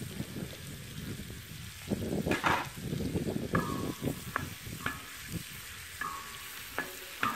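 Sweet peppers and chili peppers sizzle and fry in a pan over a wood fire alongside lamb offal, with stirring scrapes and sharp clinks of a spoon against the metal.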